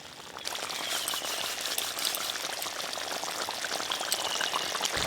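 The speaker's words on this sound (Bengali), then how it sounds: "আমার জল দিয়ে দিতে হবে।" Water poured into a pot of boiling fish gravy, cooked village-style with river tengra fish, gives a steady, close hissing and bubbling wash that runs on continuously without pause.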